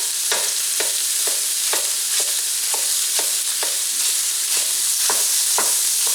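Ground beef frying in a pan and being broken up with a wooden spatula: a loud, steady sizzle punctuated by regular scraping, chopping strokes roughly every half second, close and without talking.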